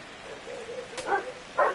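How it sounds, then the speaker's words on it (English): A dog barks a few times at a distance outdoors near woods during a baseball game, short yips rising over a steady background hiss. "Now Nolan's barking"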